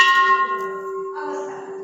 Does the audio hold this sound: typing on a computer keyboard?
no